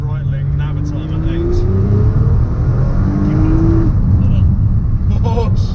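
A Nissan R35 DBA GT-R pulls hard, its engine rising in pitch through rapid acceleration, loud and close with a brief gear change mid-run, while a voice exclaims over it.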